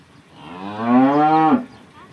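A local Banaskantha cow moos once during milking, a loud, close, drawn-out low call rising then cut off, with no talking.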